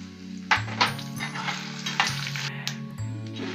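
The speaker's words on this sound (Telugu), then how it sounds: "శనగపప్పు, మినపప్పు, ఆవాలు, మెంతులు అవి కొంచెం వేగిన తర్వాత అందులో ఎండుమిరపకాయ వేసి వేయించుకోవాలి" Whole spices and lentils (chana dal, urad dal, mustard seeds, fenugreek, dried red chillies) fry as a tempering in a pan for gongura pickle, giving a steady close sizzle with a few sharp stirring clinks and no talk.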